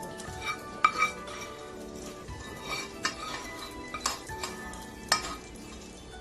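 A spoon stirs fried garlic into molokhia in a metal pot, with repeated clinks and scrapes over a soft sizzle, close and clear.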